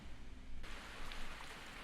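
Rain pours steadily in the 1988 anime film Grave of the Fireflies, a broad hissing wash that swells abruptly louder partway through and then holds, with no voices.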